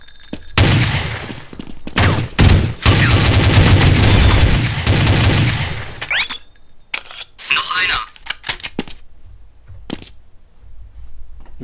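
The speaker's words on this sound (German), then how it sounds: "Maschinengewehr vom Sound her" Rapid machine gun bursts in Counter-Strike: Condition Zero, loud and dense for several seconds, then sparser shots and effects with talk in between.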